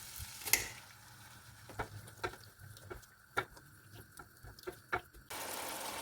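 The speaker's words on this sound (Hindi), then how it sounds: "मैं एक नरगिसी कोफ्ता बना रही हूँ तो बस मैं उसको फ्राई कर रही हूँ" Nargisi kofta fries in a pan with a steady soft sizzle, broken by scattered clicks and pops and a few louder spits. The frying stays close and faint with nobody talking, and it swells into a brighter hiss near the end.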